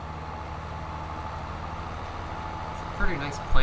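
A planting tractor engine in Farming Simulator 22 runs at a steady hum with a low, even drone throughout, and a few brief louder bumps come near the end.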